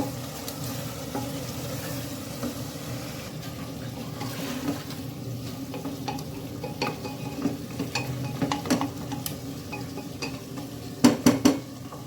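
Meat sizzles and fries steadily in a pan as it is braised with spices and chopped green chilies, with occasional scrapes and clinks of a spoon stirring against the metal, louder toward the end.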